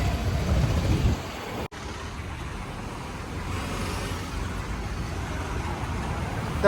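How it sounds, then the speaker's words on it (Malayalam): Road traffic at the Thavakkara bus stand in Kannur, with a steady hum of engines and passing vehicles, a louder rumble in the first second and a continuous low roar after. "ബസ്സൊക്കെ വരുന്നുണ്ട് അങ്ങനെ"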